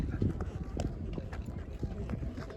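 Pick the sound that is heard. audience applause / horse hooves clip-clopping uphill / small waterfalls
horse hooves clip-clopping uphill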